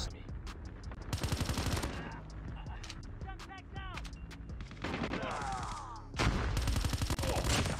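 Gunfire in the mobile shooter Call of Duty Mobile, with an HVK30 assault rifle build. Rapid automatic bursts crackle loudly in several stretches, and voices talk between and over them.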